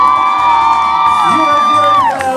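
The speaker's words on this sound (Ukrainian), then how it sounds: "Гучніші оплески!" Festival crowd at a Europe Days celebration in Kryvyi Rih, a steady wash of cheering and whoops with a loud, sustained roar and some shouting, while music tones hold underneath.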